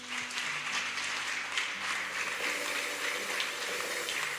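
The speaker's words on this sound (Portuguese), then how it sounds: "Vamos aplaudir a Jesus" A church congregation at a worship service claps together in a steady, dense wash of applause, with faint sustained tones underneath.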